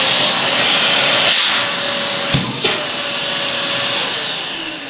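A Dyson Big Ball vacuum cleaner runs steadily and loudly at close range, its motor whine holding constant with a couple of brief knocks partway through, then easing slightly toward the end.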